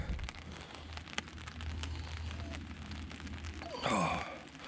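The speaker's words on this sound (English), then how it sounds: "enjoying the sounds of the rain" Rain patters steadily at an outdoor campsite, with scattered close drips and a low hum beneath, and a brief sighing or breathy sound rises near the end.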